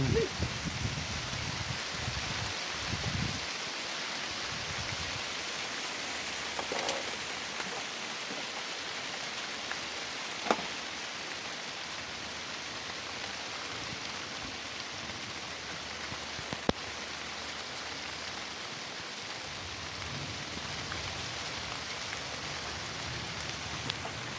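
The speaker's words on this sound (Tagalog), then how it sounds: "Lakas ang ulan at hangin." Steady heavy rain hisses throughout with a gusty, windy wash, punctuated by a few sharp knocks and drips, during a storm at a house in the Philippines.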